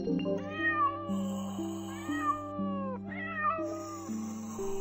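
A kitten in the zombie game Lab of the Dead meows repeatedly, several clear drawn-out mews over a steady musical background, close and prominent.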